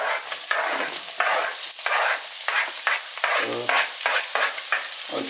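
Onions dropped into a pan with browned chicken pieces, frying with a loud, steady sizzle broken by regular stirring scrapes, close and continuous with no talk.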